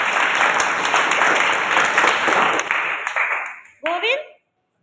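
Classroom of students clapping together, a loud sustained round of applause that fades out near the end, followed by a brief spoken voice.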